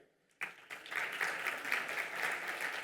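Conference audience at a Colombian insurance convention breaks into sudden applause, a dense, even patter of many hands that holds steady at moderate distance.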